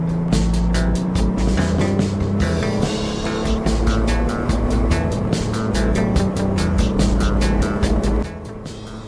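A Honda Goldwing motorcycle with a reflashed ECU accelerates hard up a highway on-ramp, its engine droning loud and steady with a rising tone under rushing wind noise before easing off near the end.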